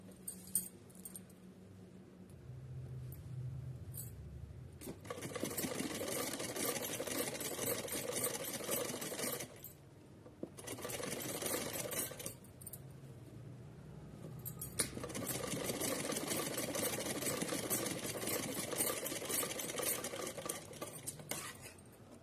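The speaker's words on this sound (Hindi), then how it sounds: "अभी यहाँ हमने इस पट्टी के ऊपर लेस सिल के अटैच करके कंप्लीट कर दी" A sewing machine stitches lace onto a fabric strip for a small Laddu Gopal deity dress, running in long steady bursts of rapid mechanical whirring broken by short pauses, close and fairly loud, with no talking.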